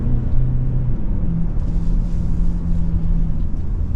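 A 2024 Lincoln Corsair Reserve II in sport mode accelerates through its 8-speed transmission, producing a steady, loud engine drone and road rumble from inside the cabin with a faint rising tone.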